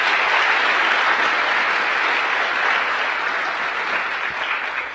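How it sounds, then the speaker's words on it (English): Steady, dense applause from a large crowd at a school superintendent search forum fills the whole stretch, loud and sustained, tapering slightly at the very end. "give a round of applause for Mr. Butterfield"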